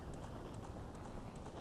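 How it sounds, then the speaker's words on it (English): A horse gallops in the video game Zelda: Ocarina of Time, a faint, quick, regular clip-clop of hooves repeating evenly under a soft, noisy background. "how he's riding his horse through those flames"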